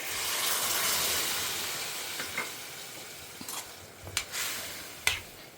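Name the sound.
tamarind water being added to jackfruit seed curry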